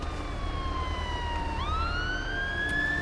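Police and ambulance sirens pass on an icy road, a wailing tone sliding down then sweeping back up, loud and close over a steady road rumble.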